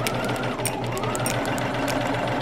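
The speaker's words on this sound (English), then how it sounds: "I just need to sew them together and put them in the garment." A sewing machine runs steadily while stitching a sleeve into a thrifted garment, giving a close, continuous rapid mechanical whir with no talking.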